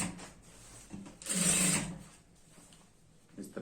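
A sewing machine runs in one short burst of stitching on a girl's skirt, a close whirring rattle lasting about half a second between quieter handling sounds.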